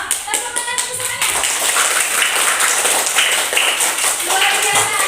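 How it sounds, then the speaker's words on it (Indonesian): Children in a combined fourth and fifth grade classroom clap together, starting with a few separate claps and then swelling into quick, steady group clapping, close and fairly loud, with voices mixed in. "Tepuk tangan untuk semuanya."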